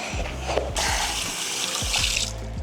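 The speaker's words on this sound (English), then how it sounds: "We're gonna wash our hands." Hands washed under a running tap beside a sink, a steady close rush of water that swells louder midway and keeps flowing, with low thumps and rustles underneath.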